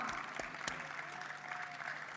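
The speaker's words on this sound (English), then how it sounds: "Let's give a round of applause for this amazing panel." A convention crowd applauds a panel, steady, fairly faint clapping heard from a distance that runs unbroken through the short moment.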